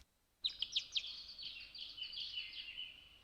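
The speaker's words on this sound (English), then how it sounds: "Eventually, I heard birds start to chirp." Birds chirp in the video game Norn9: a quick run of bright, high tweets starts after a brief silence, then turns into a steady overlapping chorus of chirps, fairly close and clear.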